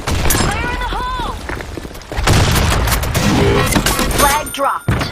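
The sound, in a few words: grenade thrown and exploding, from a video game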